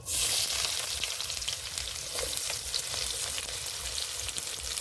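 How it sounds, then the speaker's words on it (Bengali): Chopped onion and whole cumin fry in oil in a pan, a close, even hiss of sizzling that holds steady from start to finish. "পেঁয়াজটা ভালো করে ভেজে নেব"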